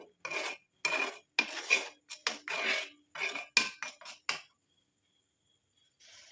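A pot is lifted off a switched-off kitchen stove and set down, giving a run of close metallic clinks and scrapes of cookware and utensils in bursts, then a few seconds of near silence before one last knock.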